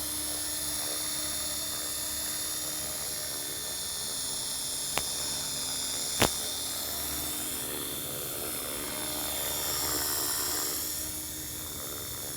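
A helicopter's engine and rotor drone steadily and loudly, with a high whine above it. Two brief sharp clicks break through partway.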